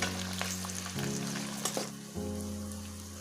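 Onions frying with vegetables and red chili in a pan for a mixed vegetable curry give a steady close sizzle and crackle, with a brief stir scrape, over a low constant background hum.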